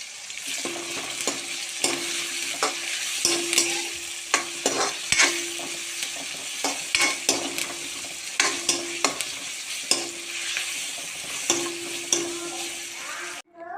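Onion, tomato and curry leaves sizzle in hot oil for a crab curry, stirred with a spoon that scrapes and clicks against the pan in a steady rhythm, close and moderately loud with no talking.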